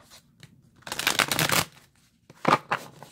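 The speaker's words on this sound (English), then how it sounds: "I'll try to remember to tell you while I'm shuffling." A deck of cards shuffled close up, two bursts of riffling, the first longer and denser, the second shorter, in a quiet room with no talking.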